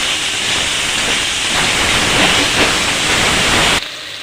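Spices frying and being stirred in a pan for a vegetarian bottle gourd curry, a steady loud sizzling hiss that runs throughout before dropping off abruptly near the end.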